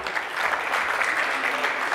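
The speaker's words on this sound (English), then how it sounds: "Let's give the boss a huge round of applause," A room of conference attendees applauds as a presenter comes up to speak, a short, dense burst of many hands clapping together.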